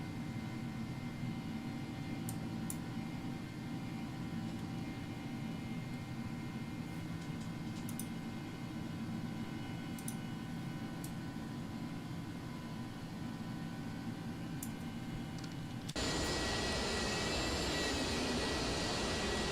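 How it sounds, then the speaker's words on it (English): Airbus A300-600 cargo airliner cabin noise in the X-Plane 12 flight simulator, a steady droning engine hum with faint tonal whine, shifting abruptly to a brighter, hissier rush near the end; no talking. "I don't know if you can even hear me over the sound of the airplane"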